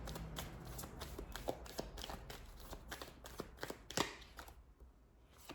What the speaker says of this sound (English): I'll get one more card from this deck.